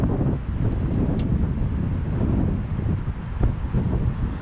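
Wind blowing hard around the stove chimney of an 8-man tipi hot tent: loud, continuous gusty buffeting and rumble against the microphone, with a faint clank now and then.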